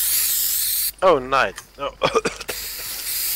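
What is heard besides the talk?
aerosol spray hissing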